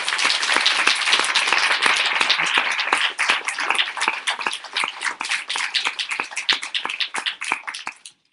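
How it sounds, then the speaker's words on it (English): An audience at a public meeting on May 1 claps together, a steady dense applause that thins into scattered individual claps before stopping. "Yes, we should clap for them"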